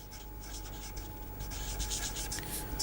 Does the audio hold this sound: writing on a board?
yes